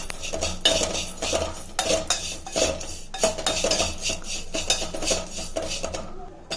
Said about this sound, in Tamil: இப்போ இதை அவுல் போட்டாச்சு ஃப்ரெண்ட்ஸ். இதை நல்லா வறுத்துக்கோங்க ஃப்ரெண்ட்ஸ்.